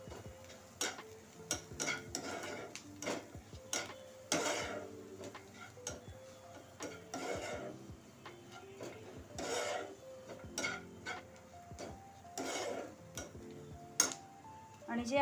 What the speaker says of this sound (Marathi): आणि हे आता छान परतून घ्यायचं.